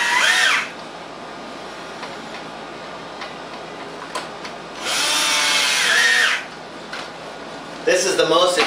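An ozone generator's 1.5 horsepower blower roars on in loud broadband bursts, surging near and steady for about a second, again for a second and a half, then starting once more, with a lower hum and faint clicks between.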